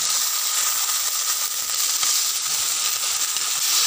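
Moong dal going into a hot cooking pan, giving a steady loud hiss and sizzle that holds without a break.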